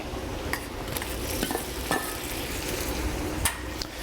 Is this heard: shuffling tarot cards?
no